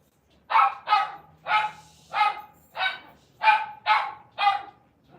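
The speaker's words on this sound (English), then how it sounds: "You hear the dogs?" A dog barks eight times in a steady, evenly spaced rhythm, loud and close, with nothing else heard around the barks.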